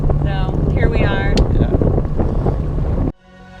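A sailboat out on the open water on its first day of the season, with heavy wind buffeting the microphone and a whooshing rush of air and water, plus faint voice-like tones, before the sound suddenly drops away near the end.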